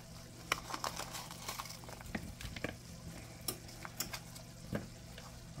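Sour cream, mayo, cheese and onion are stirred together in a bowl, producing quiet, irregular scraping and soft thick squelching taps at close range.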